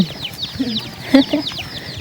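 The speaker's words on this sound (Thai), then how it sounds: "เฮ้ยไก่ไก่ กำลังจะเข้านอน" Chickens cluck in a village at dusk as they settle for the night, soft scattered clucks and bird calls nearby over quiet background murmur.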